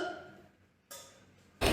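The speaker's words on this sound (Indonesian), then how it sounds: "1, 2, 3, batukan" Two forceful coughs from a tuberculosis patient practising effective coughing, each a sharp burst after a breath, the second louder and closer.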